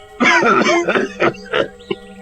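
An old man coughs hoarsely in a story sound effect, giving a run of close, loud rasping coughs and throat clearing that tails off into a couple of shorter coughs.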